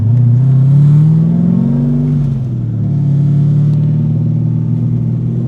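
A widebody C5 Corvette with a swapped-in LS7 V8 accelerates hard in Mexico. The engine note is loud and close, rising in a strong pull, dipping briefly, then droning on at high revs.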